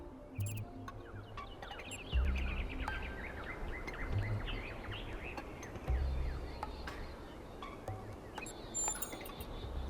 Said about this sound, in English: Do you hear the birds chirping outside the dome?